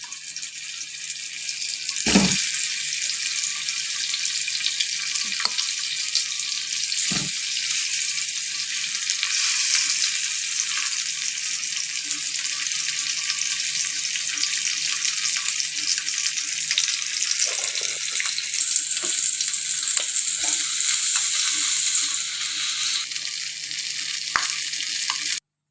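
Chicken in sauce is sautéed in a hot pan, giving a continuous loud sizzle and crackle with a few sharp clinks of utensils. There is no talking.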